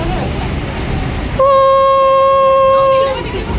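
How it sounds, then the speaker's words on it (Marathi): A train rumbles past at close range, and a loud sustained horn blares for about two seconds over the noise. "दुसरी ट्रेन पास होते आता बाजूनी दुसरी ट्रेन ही बघा"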